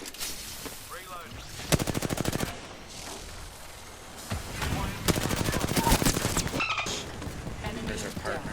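Gunfire in the video game Apex Legends: rapid automatic bursts, close and loud, in two long sustained volleys with brief shots between, while a player talks over the fighting.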